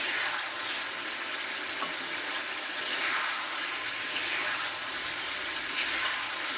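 Chicken gravy bubbles hard in a covered pot, giving a steady, close hiss and crackle of boiling with no speech.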